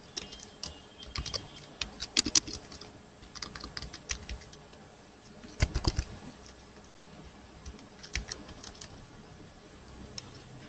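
Quick bursts of typing on a computer keyboard, clicking in irregular runs with short pauses between, moderately close and clear with no talk over it.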